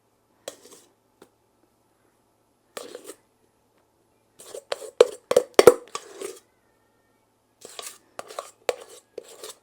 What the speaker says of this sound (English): then we're going to spoon our meringue over the top